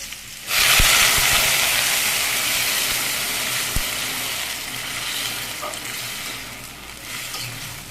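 Water poured into a pan of sautéed vegetables bursts into a loud, close hissing sizzle that starts abruptly and then settles into a steady bubbling hiss, with a couple of faint clinks of a utensil.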